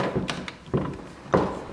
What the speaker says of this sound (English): Heavy door.